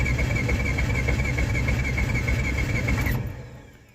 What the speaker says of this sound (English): All I'm going to do is crank it over, and we're going to listen for inconsistencies.